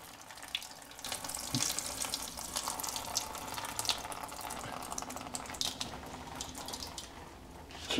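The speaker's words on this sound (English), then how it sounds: "It says to dump the hot water out." Hot water being dumped out of a container splashes and trickles into a sink in a kitchen, a steady, fairly quiet rushing stream with small spatters, no talking.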